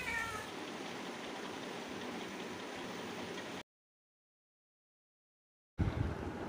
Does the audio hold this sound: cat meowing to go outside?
yes